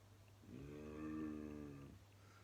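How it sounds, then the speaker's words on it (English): Cattle lowing in a byre, a single long, mournful moo that swells and fades over about a second and a half, fairly close, above a low steady hum. "she heard the cows in the byre lowing piteously"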